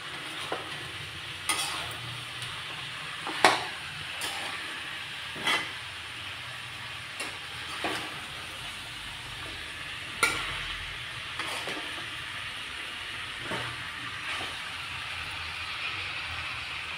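Vegetables frying in oil hiss continuously at a moderate, fairly distant level, punctuated every couple of seconds by sharp spatula clicks and scrapes against the pan; no voices.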